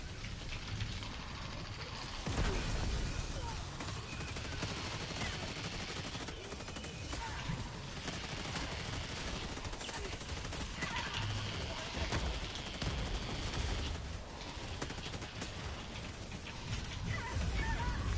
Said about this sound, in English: my mortar sentry's finally responding